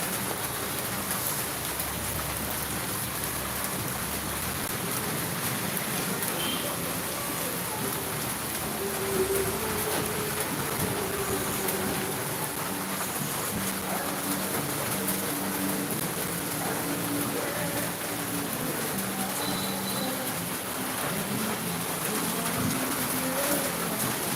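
Steady rain falls on surfaces outdoors, a continuous even hiss with dense patter that holds at a constant moderate level for over twenty seconds, with no voices.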